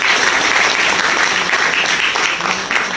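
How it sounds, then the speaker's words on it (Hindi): Loud, dense applause from an audience at a business plan seminar, a steady wash of clapping filling the whole moment without a break. "सर एक बार जोरदार ताली बजाना जरा।"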